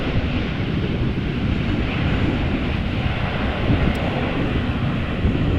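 A steady, fairly loud jet roar from an Icelandair Boeing 757 in special livery at Amsterdam Schiphol, mixed with gusty crosswind buffeting, continuous and with no talk.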